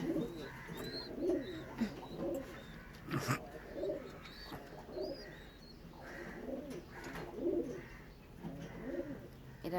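Pigeons coo in repeated, rhythmic low phrases close by inside a pigeon coop, with a few sharper chirps and a brief clatter partway through.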